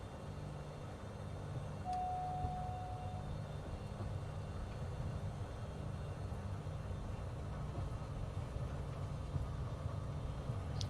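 Faint steady aircraft engine drone from a Bonanza in flight in Microsoft Flight Simulator, an even low rumble with a short brief tone near the start and no talking.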